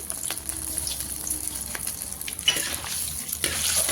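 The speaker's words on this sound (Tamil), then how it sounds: "கடுகு நல்லா பொறிஞ்சு வரையும்" Mustard seeds splutter in hot coconut oil, a steady soft hiss of frying with scattered faint pops and a couple of brighter crackles, close but fairly quiet, and no one speaks.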